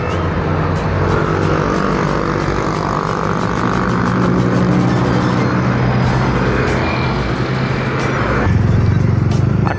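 A Harapan Jaya Pioner bus on an arterial road heading toward Surabaya, a loud continuous engine roar with passing traffic, the drone shifting and growing heavier near the end.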